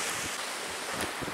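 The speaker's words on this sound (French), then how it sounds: "Il y a un petit peu de vent." Outdoor wind hisses steadily across the microphone in a continuous broadband rush with faint low buffeting and no voices.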